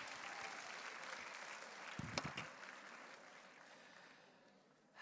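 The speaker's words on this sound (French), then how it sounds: "Allez, vous pouvez les applaudir." Faint, steady applause from an audience at a mini-enterprise festival award ceremony, continuous clapping throughout with a few brief louder claps in the middle, no talking.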